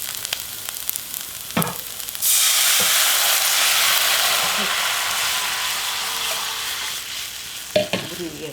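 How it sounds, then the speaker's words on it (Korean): Chili powder stir-fried in scallion oil in a pan for spicy sundubu ramyeon, a steady loud sizzle and hiss that starts abruptly and holds for several seconds, with a few clinks of the spatula before and after. "고춧가루는 금방 타니까 한 30초만 볶아"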